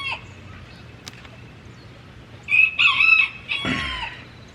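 A rooster crows once, fairly close and clear over a quiet farm background, with a few soft clucks before the crow.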